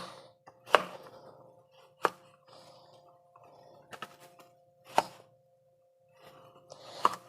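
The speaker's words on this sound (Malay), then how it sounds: "Kita potong terungnya." A knife chops through sour eggplant (terung asam) on a board, skin left on, with four sharp, well-spaced strikes and softer scraping and handling noises between them, close and alone.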